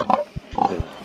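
Pigs in a muddy homestead pen give a few short, close grunts, low thumps mixed with brief higher calls, in a quick scattered burst with no talking.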